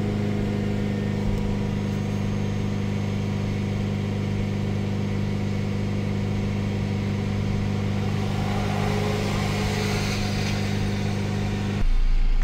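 Ford Transit minibus engine with a DPF fault, held at a steady raised speed around 3000 RPM, giving a loud, constant mid-pitched drone close to the microphone until a brief change near the end.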